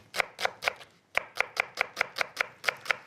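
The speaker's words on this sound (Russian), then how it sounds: "вольготно сейчас нарезаю лук, весьма произвольно" A knife chops onion on a board for an onion pie in about a dozen crisp, evenly spaced close strikes, with a brief pause after the first few.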